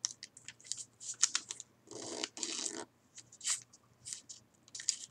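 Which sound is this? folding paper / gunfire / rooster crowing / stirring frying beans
folding paper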